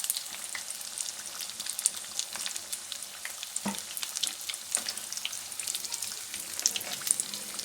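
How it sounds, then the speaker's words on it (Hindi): Stuffed bell pepper rings fry in a pan with a soft, continuous sizzle and light crackles, a few clinks of a utensil now and then, no voices. "अब मैं इनको डिश आउट कर लेती हूँ और फिर बाकी के भी फ्राई कर लेती हूँ।"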